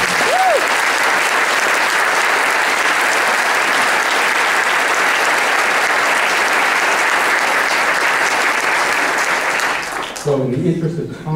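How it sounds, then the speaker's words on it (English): Loud, sustained applause from an audience at a sheriff candidates' debate hosted by a chamber of commerce, steady and dense for about ten seconds before cutting off abruptly, with a brief voice afterward. "giving them all a round of applause"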